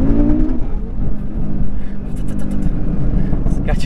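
An Audi RS3 tuned to about 740 horsepower launches hard with launch control, its engine growling loudly while the differential hops, with voices talking over the rough, pulsing drivetrain noise.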